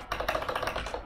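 Rapid typing on a computer keyboard, a steady run of close, clicky keystrokes with no talking.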